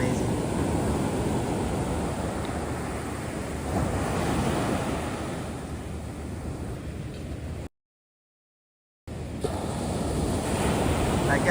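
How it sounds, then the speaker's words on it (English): Ocean waves on Bang Tao beach in Phuket, a continuous roaring surf with rising and falling swells and gusts of wind buffeting the microphone, briefly cut to silence before resuming. "I guess I can ask for better waves today."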